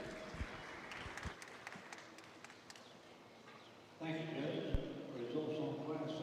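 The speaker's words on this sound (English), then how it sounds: "Give those guys a round of applause." Scattered clapping from a small audience at a cattle show for red bulls, faint and sparse at first, then a steadier round of applause that swells under a loudspeaker announcer's voice.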